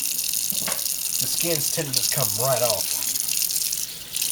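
Tap water runs steadily over sausages as their casings are removed, a continuous splashing hiss beneath a person talking.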